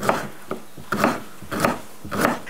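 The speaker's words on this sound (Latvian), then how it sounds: "Kamēr sīpola cepās, sasmalcinu pārējos dārzeņus." A knife chops vegetables on a wooden board in steady, evenly spaced strokes, about five crisp thuds, close and clear.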